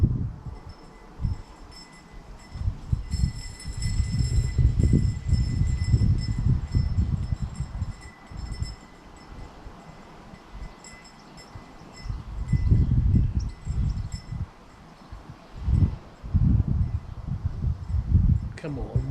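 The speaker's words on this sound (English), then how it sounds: "what we're waiting for is a nice big strong gust of wind and not a motorbike" Wind gusts buffeting the built-in microphones of a GoPro Hero 6 Black outdoors, heard as loud low rumbling surges that swell and fade in several waves, with a quieter lull between the strongest bursts.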